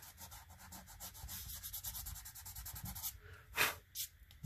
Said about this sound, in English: I'm going to lift up the masking fluid right here.